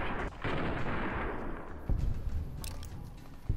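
Rifle gunfire in the post-apocalyptic shooter Fallout New Vegas, a burst of sharp reports in the middle of a fight, with a few further scattered shots over a steady game-ambience background.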